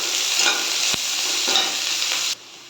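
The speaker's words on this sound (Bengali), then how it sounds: "এবার দিয়ে দেবো কেটে রাখা পেঁয়াজ" Chopped onions fry in hot oil with dried red chillies and bay leaf, a dense, loud sizzle with a few soft stirring knocks that cuts off abruptly near the end.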